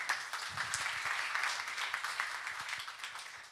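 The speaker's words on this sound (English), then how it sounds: "Round of applause, please." Steady applause from a conference audience at a deep-tech acceleration event as a Ukrainian Ministry of Science and Education official is welcomed. The dense clapping is fairly distant and holds an even level for the whole stretch.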